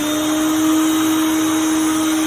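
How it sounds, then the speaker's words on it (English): A router runs at full speed while cutting a 3mm acrylic dome, giving a loud, steady, high-pitched whine with a constant tone and no break over its short length. "I'll turn the router on"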